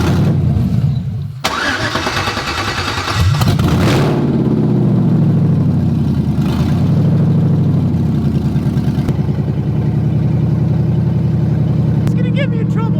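LS V8 engine swapped into an S10 pickup truck, starting up and running loud, with a rough idle and several revs, and voices talking over it throughout.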